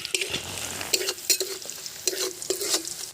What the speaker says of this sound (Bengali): যতক্ষণ এটা গোলাপি কালার না হবে ততক্ষণ অবধি ভেজে নেব।